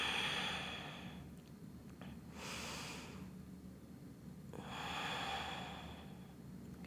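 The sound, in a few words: breathing during a yoga bridge pose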